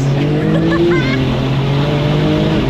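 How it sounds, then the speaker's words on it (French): A 750-horsepower Porsche engine drones loudly and steadily with a rising turbo whine over it, close and continuous throughout. "T'entends le turbo?"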